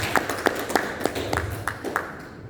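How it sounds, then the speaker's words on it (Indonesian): A small audience claps for Pak Sultan in a thin, sparse patter of distinct hand claps, roughly evenly spaced and moderately close, fading toward the end. "tepuk tangan Pak Sultan"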